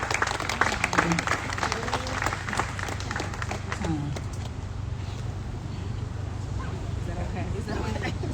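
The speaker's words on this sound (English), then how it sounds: "Y'all clap it up for Miss Vanessa." A crowd claps for someone speaker at a rally, the applause strongest early and thinning into a loose scatter under crowd noise and voices, with a steady low rumble beneath.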